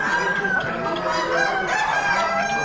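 A rooster crows at an Amish auction among poultry, a drawn-out tonal call standing clear over a busy background of other fowl clucking.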